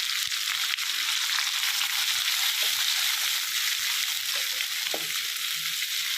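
Chopped onions fry in a hot pan with a steady, loud hiss and sizzle, with occasional soft clicks of stirring.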